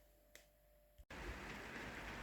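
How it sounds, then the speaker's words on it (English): Steady rain falling outdoors: after a brief near-silent moment, a dense, even hiss of rain fills the scene and continues at moderate loudness. "You can probably hear it. It's raining. Just a steady flow of rain"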